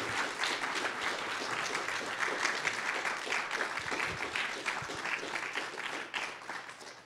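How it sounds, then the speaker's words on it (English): Sustained applause from the audience after a lecture, dense rapid clapping from many hands in a room, steady and fairly near for several seconds with a few louder claps standing out. "Let's give Vi Khi Nao a round of applause."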